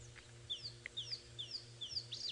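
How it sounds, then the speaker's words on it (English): A black-headed oriole calls at dawn on a safari drive in Johannesburg, giving a series of short, liquid whistled notes repeated every half second or so, fairly faint over a low engine-like hum. "always enjoy the sound of the oriole"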